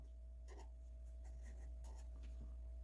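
Faint scratchy strokes of writing out math inequalities by hand, a few short scribbles over a steady low hum.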